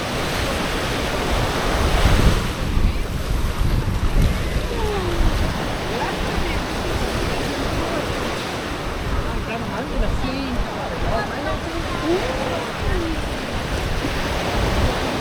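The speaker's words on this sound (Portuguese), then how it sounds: "com essa ventania toda" Strong late-afternoon wind sweeps Praia da Daniela beach in Florianópolis, buffeting the microphone in a continuous roar over the wash of surf, with gusts swelling and easing throughout.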